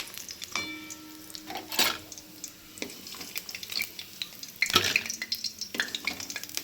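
Banana flower (mocha) pakoda crackle in hot oil while a utensil clinks and scrapes against the pan in several sharp bursts, close up with a soft sizzle underneath.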